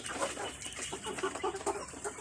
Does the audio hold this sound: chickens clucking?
yes